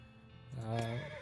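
A horse in the video game West of Loathing gives a single short, loud neigh that rises and falls over about half a second after a quiet start, alone with no talk.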